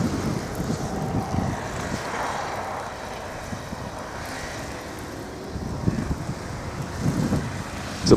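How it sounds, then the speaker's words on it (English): Blizzard wind roaring across a snowy street in Alpena, Michigan, a steady loud rumbling gust with microphone buffeting, swelling stronger toward the end, no talk. "It's a blizzard, folks."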